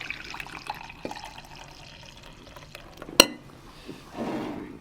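Brewed coffee poured from a freshly swirled pot into a cup, a faint liquid trickle with light drips, one sharp clink midway, then a brief louder splash near the end.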